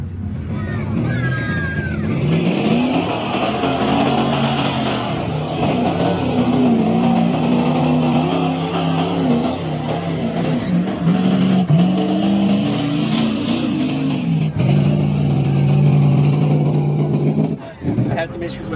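A mud truck running a borrowed 496 engine roars and revs continuously, its loud engine drone rising and falling with throttle, close by, while someone talks over it.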